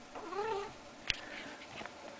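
Domestic cat giving a single drawn-out meow up close, followed by a sharp tap and soft rustling in a quiet indoor room.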